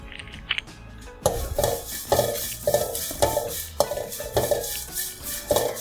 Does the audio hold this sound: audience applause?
no